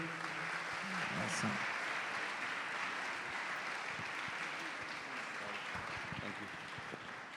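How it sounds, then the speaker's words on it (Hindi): Audience applause at a teen conference in Lahore, a dense, steady wash of clapping from a large crowd that holds for several seconds and slowly fades. "आपकी जोरदार तालियों में"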